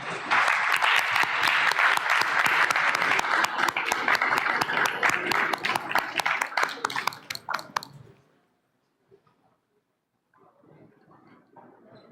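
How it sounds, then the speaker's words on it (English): An audience at a business forum gives a big round of applause welcoming panelists on Women's Day: dense, loud clapping for about eight seconds that fades out, then near silence with faint murmuring. "we welcome our panelists with a big round of applause"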